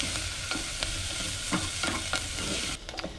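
Garlic frying in a pan for marinara sauce: steady close sizzle with a few scraping stirs of a utensil against the pan, no voices.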